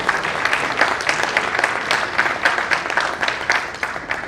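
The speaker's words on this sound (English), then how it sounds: "Give all of them a round of applause." A reception audience applauds, a sustained, busy wash of many hands clapping at fairly loud level, steady from start to finish.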